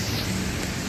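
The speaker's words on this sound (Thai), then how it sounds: "เอาแล้วครับเอาแล้วครับฝนตกฮะฝนตก" Steady rain pours down in a dense, even hiss, fairly loud and close, with no voices.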